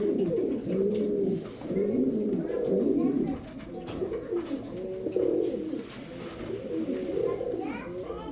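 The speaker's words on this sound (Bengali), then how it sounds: "দর্শক, যারা বুদাপেস্ট কবুতর খুঁজতেছেন তাদের জন্য এই যে বুদাপেস্ট একটা নর কবুতর" Pigeons of the Budapest breed, including a male, coo continuously in low, rolling murmurs close by, with children's voices faintly in the background.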